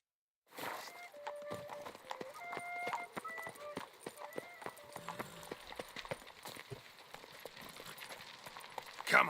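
Roach, a horse in The Witcher 3 video game, gallops with a rapid, clear run of hoofbeats. They continue steadily under light tonal game music.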